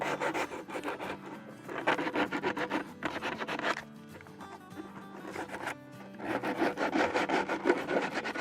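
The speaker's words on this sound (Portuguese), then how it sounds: "eu estou usando aqui uma lixa para fazer esse trabalho aqui, uma lixa da gramatura de 25" Wood sanded by hand with coarse 25-grit sandpaper, rapid rasping strokes in bursts with short pauses between, close and steady.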